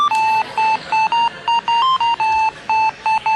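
Telephone on-hold music plays on a radio broadcast as a loud, simple electronic jingle of short, evenly spaced beeping tones with slight pitch changes, repeating rhythmically with no talking over it.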